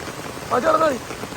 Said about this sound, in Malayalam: നല്ല ഒഴുക്കുണ്ട് കേട്ടോ